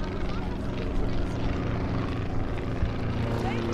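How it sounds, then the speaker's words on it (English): A light propeller aircraft from the Mono display team drones steadily and loudly as it flies crossover passes at the Midlands Air Festival 2023 air show, with a constant engine hum throughout. "Those are beautiful crossover passes."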